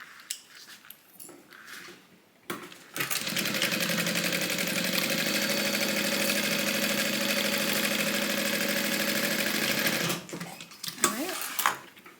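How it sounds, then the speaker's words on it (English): A sewing machine runs steadily for about seven seconds, stitching the sides of a fabric divider bag together, with quiet handling noises before and after the run. "So I'm just going to get that lined up, flipped in place, and then sew."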